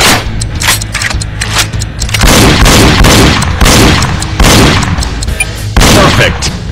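Rapid video-game gunfire from target shooting in the Nintendo Wii game Reload: loud, repeated sharp shots and booming reports in quick bursts, close and punchy, with a voice faintly mixed in.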